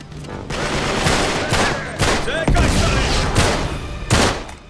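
Rapid gunfire fills a firefight in the video game Uncharted 3: Drake's Deception on PS4, with loud, dense volleys and bursts crackling almost continuously, punctuated by heavier booms.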